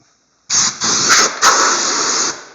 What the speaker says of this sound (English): Let's pull it up here so you can see what I'm spraying here, right?